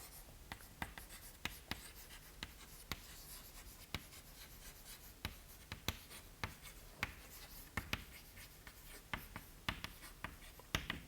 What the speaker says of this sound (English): let me write it once again